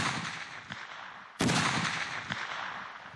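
Two sharp, loud reports from a DShK heavy machine gun, spaced more than a second apart, each trailing off in a long echoing decay outdoors.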